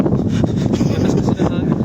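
Loud, buffeting wind rumbles across the microphone throughout during traditional net fishing, a constant low roar with gusty fluctuations and a voice faintly underneath.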